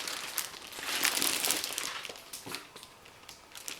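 A plastic filling bag being opened and handled while motorcycle luggage is unboxed: continuous close crinkling and rustling, loudest early, then softer intermittent crackles and handling noises, with no talk.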